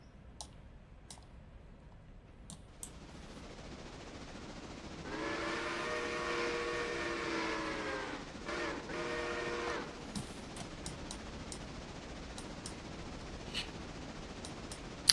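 The Sierra 38 steam locomotive in the Railroader game sounds a long, loud harmonic steam whistle in two blasts over a low rolling rumble, with scattered sharp clicks before and after.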